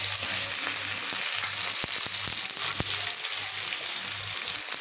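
Cabbage, carrot, beans and green chillies frying uncovered in a pan for gobi fried rice, a dense, steady sizzle with a few sharp utensil taps and scrapes, close and continuous with no talking.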